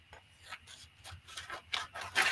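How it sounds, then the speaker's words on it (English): Paper for a 5x7 handmade card is trimmed up close with a quiet cutting tool, giving soft rhythmic rasping strokes that grow slightly louder toward the end. "So I'm just going to cut out a piece down here. So I'm just going to trim this off."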